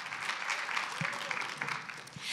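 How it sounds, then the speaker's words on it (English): A crowd claps steadily in dense applause throughout, with no pauses. "a round of applause"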